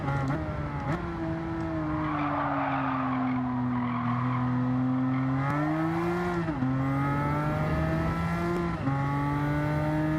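A car with a swapped engine in Gran Turismo 7 roars steadily at high revs, pitch rising and dipping through gear changes and corners, with tyres squealing under the engine note.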